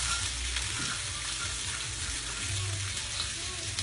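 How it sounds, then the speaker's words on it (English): Food sautéing in a pan for a Dungeness crab glass noodle bowl gives a steady, close frying hiss that runs without a break. "So we're gonna saute it a little bit."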